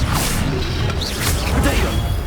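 Incendio fire spell cast in Hogwarts Legacy, a loud dense burst of whooshing, crackling magic with swishing sweeps and impacts over a continuous roaring game soundscape.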